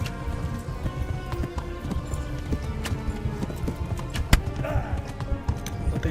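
Galloping horse from the game Kingdom Come: Deliverance, rapid rhythmic clip-clop hoofbeats running throughout, loud and close, with game ambience and occasional sharp hits layered over the steady gallop.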